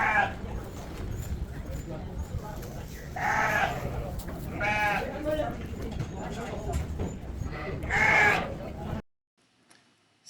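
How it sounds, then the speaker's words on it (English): Sheep bleating in a barn at a fiber festival, with several loud wavering bleats spread across the clip over crowd chatter and barn noise, before a sudden cut to near silence. "I decided to go over and check out the sheep in the barn and listen to their cute little buzz"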